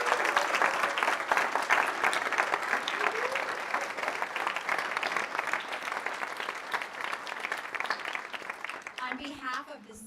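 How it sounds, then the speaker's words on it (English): Audience applause for graduates at a Canine Companions assistance-dog graduation ceremony, dense sustained clapping from a large crowd that gradually thins toward the end, with a voice briefly heard over it. "one more round of applause for our graduates"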